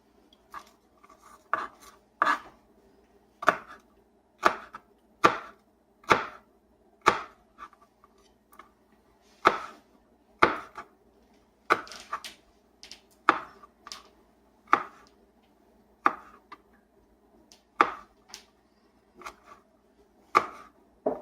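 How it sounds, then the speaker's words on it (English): A knife minces garlic for barbecue sauce on a cutting board, a steady series of sharp, crisp chops with occasional quick double strikes, close and moderately loud against a faint hum, no talking. "Now I'm just about to mince the garlic for the barbecue sauce."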